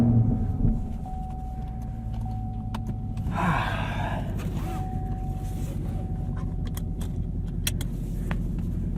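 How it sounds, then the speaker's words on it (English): Two American V8s, a 2023 Camaro SS 1LE and a 2024 Ford Mustang GT, idling side by side with a deep steady low rumble, heard from inside a car along with a power window whir and a few clicks. "Gotta love the sound of two American V8s idling."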